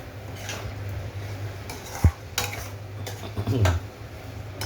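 Sugar being stirred into carrot halwa in a pan, with a metal spoon scraping and clinking against the pan in a few separate knocks over a steady low background hum.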